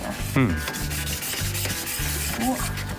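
Sandpaper of 800 grit wet-sands a yellowed Toyota Hiace headlight with warm water, giving close, rhythmic back-and-forth rubbing strokes, several in quick succession.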